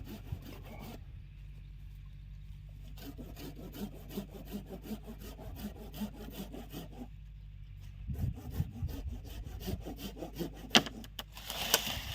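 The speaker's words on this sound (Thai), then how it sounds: "จะทำการ ตัดออกเลยนะคะ วันนี้ก็ใช้เลื่อยมือนะคะ" A hand saw rasps back and forth through a tree branch in steady rhythmic strokes, pausing briefly before resuming, close and clear.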